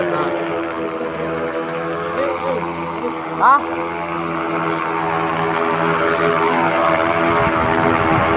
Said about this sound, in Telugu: ఫ్లైట్ వస్తుంది.